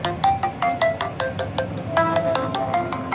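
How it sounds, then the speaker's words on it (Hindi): A phone alarm rings loudly and close, a bright repeating electronic melody of short tonal beeps cycling steadily. "अलार्म बजना लग जाएगा।"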